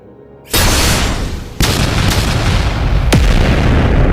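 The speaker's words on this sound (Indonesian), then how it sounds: "Ledakan yang dihasilkan begitu besar, menggetarkan seluruh medan perang." A loud, sudden explosion bursts in after a moment of quiet, followed by sharp cracks and a sustained roaring rumble.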